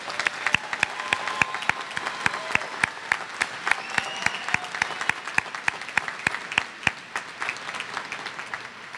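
An audience at a Terra State Community College commencement applauds graduates with a steady, dense wash of clapping that carries on for several seconds.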